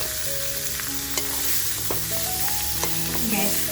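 Dry Kolhapuri-style mutton frying in a pan, a loud continuous close sizzle with occasional stirring scrapes and metallic clinks.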